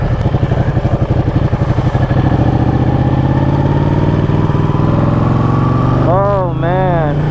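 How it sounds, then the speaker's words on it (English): Ducati 1199 Panigale motorcycle engine warming up after a cold start, a loud close throbbing idle with a rapid pulsing beat that smooths into a steady drone, with a brief rising-falling rev near the end. "Get the bike to warm up a little bit."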